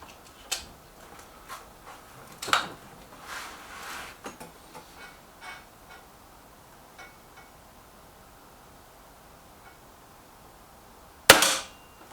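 A BSA TS Ultra air rifle firing pellets: a few sharp, brief cracks spread across an otherwise quiet stretch, with one loud shot near the end and faint clicks and handling noises between.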